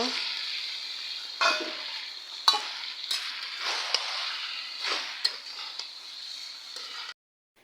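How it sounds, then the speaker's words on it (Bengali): Potatoes and tomatoes sautéing in a pan for a Bengali dried-fish curry, a continuous bright sizzle broken by repeated spatula scrapes and light clinks, then a sudden cut to silence at the end. "এই তো এখানে কষানো হইতেছে"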